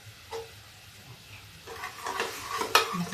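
Spice masala for a vegetable curry cooking in a pan, with a quiet sizzle under intermittent spoon scrapes and stirring that get louder and busier toward the end, including one sharp clink, and no voices.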